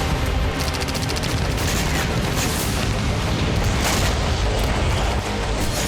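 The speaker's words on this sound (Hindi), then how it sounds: "धमाकों का ऐसा सिलसिला" Continuous heavy rumble of a series of explosions from attacks, a dense, loud and unbroken roar with crackling bursts throughout, no talk.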